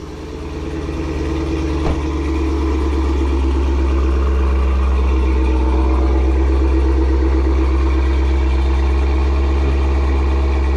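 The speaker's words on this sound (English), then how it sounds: "The rumble of that V8, which quickly settles in to a modest idle" A Cadillac CT5-V Blackwing V8 rumbles loudly close by, a brief blip near the start, then settles into a deep, steady idle that continues alone.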